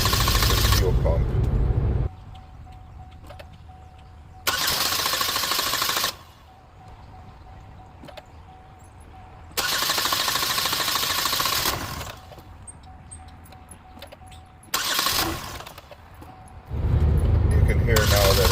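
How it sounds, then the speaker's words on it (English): A 2015 Chevy Equinox engine, fresh from a fuel rail replacement, cranks in repeated bursts separated by pauses, then catches and starts, loud and close. "You can hear now that it wants to start."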